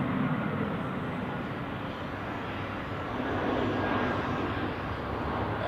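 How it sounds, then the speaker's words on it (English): A heavy jet airliner approaches runway 28 at Zurich Airport, its engines giving a steady, broad rumbling roar that holds even and fairly loud throughout with no talking. "We have the next heavy on approach for runway 28"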